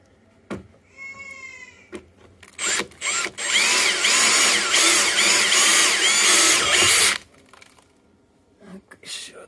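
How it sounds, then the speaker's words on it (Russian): A power drill bores holes in the floats of a Scarab 650 trimaran, a steady whine running for about four seconds, with short bursts before and after. People talk nearby in between. "Вот, сейчас вот мы сверлим."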